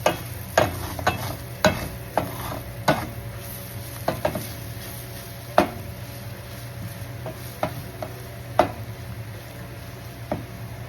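Leftover fish mixture being stirred in a frying pan on a stove, a steady sizzle under irregular scraping stirs and utensil knocks against the pan, close and fairly quiet, with no talking.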